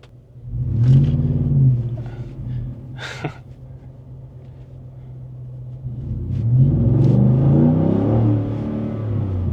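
A 2024 Ford F150 with a Pedal Commander set to Sport Plus +4 pulls away. Deep, close engine rumble swells as it accelerates, eases off briefly, then builds again into a sustained loud roar.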